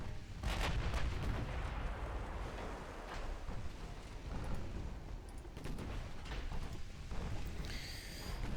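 Battleship main guns firing in the naval game Ultimate Admiral: Dreadnoughts, heavy booming reports and rumbling blasts spread over several seconds amid continuous low battle noise, moderately loud.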